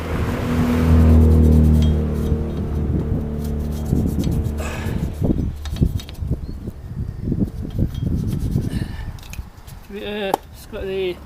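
Rust being scrubbed off front brake parts of a 2015 Ford B-Max during a brake disc and pad job, heard as close, repeated rasping brush strokes in uneven bursts over a low steady hum.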